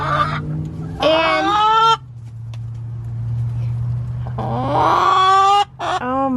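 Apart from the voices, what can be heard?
Chickens calling, including a broody salmon Faverolles hen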